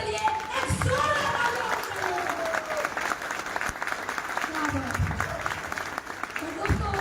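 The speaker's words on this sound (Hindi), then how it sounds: "ताली।" A seminar audience at a business plan event in Varanasi breaks into applause for a guest speaker, a lively, crackling burst of clapping that rises and falls across the room.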